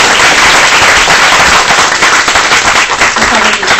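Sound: audience clapping for the readers

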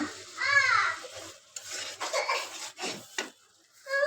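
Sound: sautéing spice paste in a pan for shrimp curry

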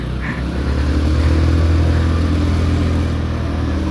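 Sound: motorcycles passing on the road

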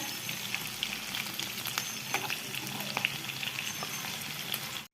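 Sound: fish dumplings frying on medium flame

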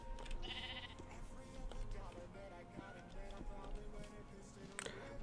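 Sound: sheep bleating in the video game Minecraft

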